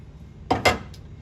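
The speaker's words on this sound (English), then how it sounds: "remove your grey top cover off your grinder." Grey top cover lifted off a Necta Opera espresso grinder: two quick close metallic clanks in a row, then a faint lighter tick, alone in a quiet room.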